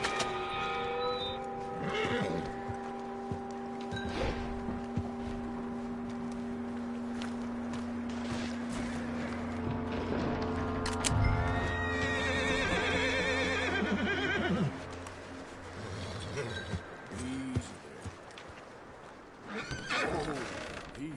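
A horse whinnies and neighs in the video game Red Dead Redemption 2, with clear repeated calls, snorts and shuffling hooves amid steady game music, fairly close and prominent throughout.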